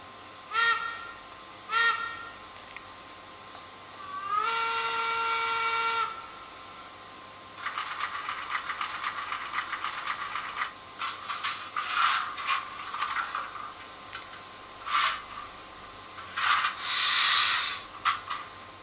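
A model railway sound module in a BR52 steam locomotive, giving short tooting whistle blasts, a longer sustained whistle, and stretches of hissing, chuffing steam noise, small and tinny, with no speech.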